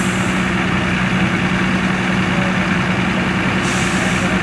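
Road Commander 2 truck with a Cat diesel engine at a steam rally showground, a loud steady diesel rumble and drone running throughout with a brief hiss near the end.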